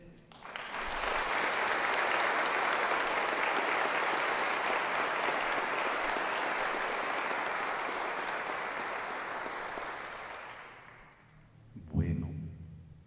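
A church congregation applauding at a Saturday Mass, broad sustained clapping from many hands that holds steady for about ten seconds, then fades, followed by a short thump.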